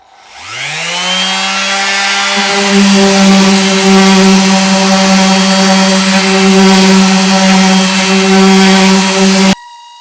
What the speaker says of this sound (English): So sanding that piece of wood, I have to say this machine does have a lot of power